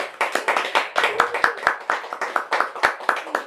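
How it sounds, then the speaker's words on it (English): An audience applauds a poet, Madison Davis, at a reading: a brief burst of close, uneven hand clapping from a small crowd, dense and steady for a few seconds. "So let's give another round of applause for Madison Davis."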